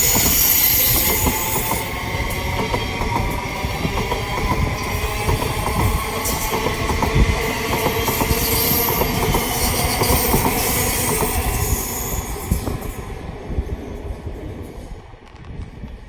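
A Thameslink Class 700 electric train, unit 700.119 on a Brighton to Bedford service, pulls out of West Hampstead station with a steady, close rumble and wheel noise that slowly fades over the final seconds.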